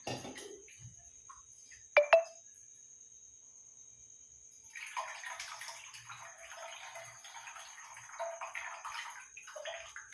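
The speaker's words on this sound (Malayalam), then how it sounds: "നല്ല കട്ടിയായി കുറച്ചും കൂടെ വെള്ളം ഒഴിക്കുന്നുണ്ട്" A couple of light clinks, then water pours steadily into a pot of fish curry for several seconds, splashing softly under a faint high electrical whine.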